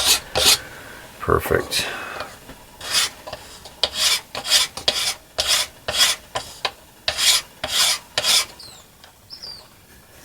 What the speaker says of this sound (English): I'm only willing to spend so much time sitting here removing minute quantities of wood